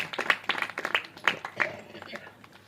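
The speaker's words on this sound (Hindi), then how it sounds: "एक बार जिसको अच्छा लग रहा है ताली बजा दो।" An audience at a Shiv Purana religious discourse gives a few scattered, uneven claps that come in short bursts and fade out, with a voice speaking among them.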